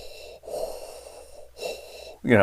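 A voice makes deep, raspy mechanical-sounding breaths imitating a masked villain, inhaling and exhaling in slow, steady cycles, close to the mic.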